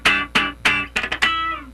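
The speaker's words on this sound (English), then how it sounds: "Just straight 8th notes. And maybe at the end you want to put one of those 16th note triplets." Funk rhythm guitar playing straight eighth-note strums, ending in a quick sixteenth-note triplet flourish. Six sharp, close chord attacks come in an even pulse, with a cluster of fast hits near the end and a final ringing chord.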